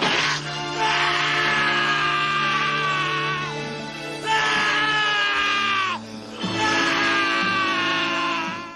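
Krillin, the Dragon Ball anime character, lets out a long, agonized scream in three sustained, strained bursts with brief gaps between them, loud and raw over a low background of music and effects.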